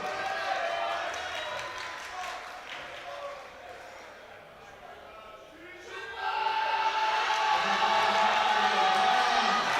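A crowd at a European junior powerlifting championship cheers for a lifter grinding through a 310 sumo deadlift. A murmur with an announcer's voice swells into a loud, sustained roar of cheering and shouting in the last few seconds.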